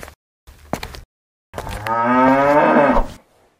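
A cow lets out a loud, close moo lasting over a second, preceded by a few short thumps and rustles, with no talking.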